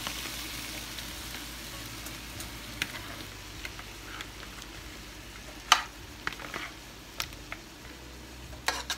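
Shrimp frying in marinara sauce in a pan for turkey sausage and shrimp jambalaya, a steady soft sizzle with scattered pops and crackles, close and alone without talk.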